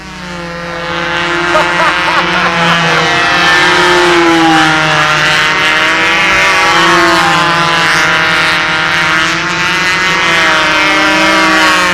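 An engine fitted with a muffler in place of a restrictive exhaust insert runs steadily and loudly throughout, its throaty drone shifting slightly in pitch as revs rise and fall.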